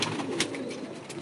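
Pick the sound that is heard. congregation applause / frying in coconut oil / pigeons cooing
pigeons cooing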